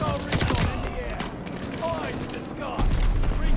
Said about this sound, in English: Using that Owen gun.